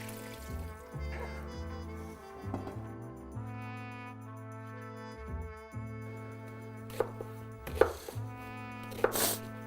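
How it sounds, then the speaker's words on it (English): Knife chopping onions coarsely into cubes on a cutting board, steady rapid strokes over background music with a few louder sharp knocks near the end. "These onions here, very simple. I'm just gonna cube them coarsely"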